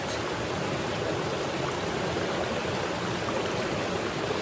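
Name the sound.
river water flowing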